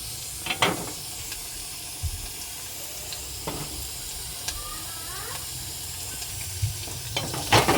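Cut potatoes fry in a pan of mutton and get stirred. A steady soft sizzle runs throughout, broken by a few sharp spoon scrapes and clinks.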